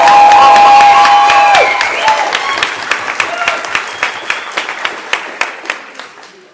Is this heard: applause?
yes